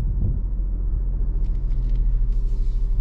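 A manual car pulling away while the driver holds the clutch at the biting point gives a low, steady engine rumble, close and fairly loud, with the revs rising slightly toward the end.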